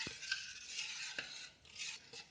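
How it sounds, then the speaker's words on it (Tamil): A herbal bath soap mixture of oil and ingredients being stirred by hand gives soft, irregular scraping and swishing strokes, quiet and close with no talking. "நம்ம தோசை மாவு பதம் வர வரைக்கும் நல்லா கைவிடாமல் கலக்கிட்டே இருக்கணும்."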